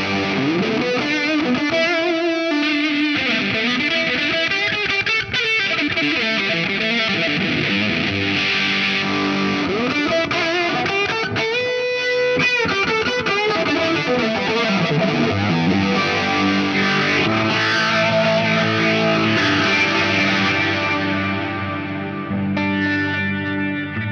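Heavily distorted electric guitar through a Plethora X5 effects rig, playing continuously, thick with chorus and echo effects, loud and sustained, with no voices.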